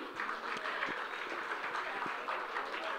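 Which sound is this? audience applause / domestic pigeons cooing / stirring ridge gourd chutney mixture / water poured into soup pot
audience applause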